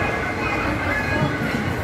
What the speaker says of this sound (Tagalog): All aboard the train.